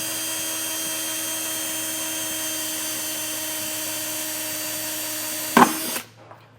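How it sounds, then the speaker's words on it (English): A power drill whines steadily at a constant pitch, close and loud, drilling out a rivet on a 2021 Lincoln Aviator during trailer hitch installation, then a brief sharp crack as it breaks through before cutting off. "so we are going to drill these out"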